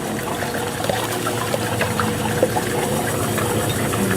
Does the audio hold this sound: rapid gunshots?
no